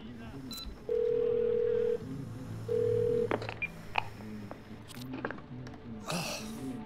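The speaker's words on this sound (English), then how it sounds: "I want to ring her straight away from his phone" A phone dials in Twelve Minutes: two long steady tones, then a few short keypad beeps and handling clicks, with a voice murmuring briefly near the end.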